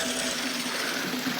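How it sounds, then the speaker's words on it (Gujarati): Water streams steadily from a gaumukh spout at a temple site, a soft continuous splashing flow heard briefly and evenly at moderate distance. "આ ગૌમુખ માંથી પાણી છે ને 12 માસ બંધ જ નથી થતું"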